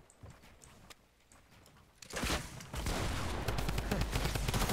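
Gunfire in the video game Fortnite starts quietly with a few scattered shots, then breaks into loud rapid bursts of shooting about halfway through, with no talk audible.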